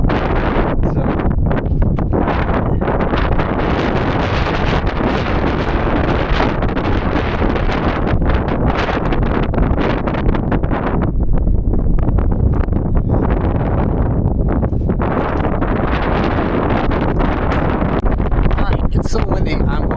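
Strong, relentless wind roars and buffets the microphone on an exposed Appalachian Trail mountain, a dense continuous rumble for the whole stretch with no letup.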